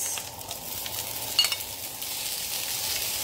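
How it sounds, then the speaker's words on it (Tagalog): Tomatoes and chili hitting hot oil in a pan set off a bright, crackling sizzle with a sharp spatter burst midway, then a steady frying hiss, close and alone with no voices. "Medyo mainit na yung ating mantika, kaya sabay-sabay na natin yung ilagay."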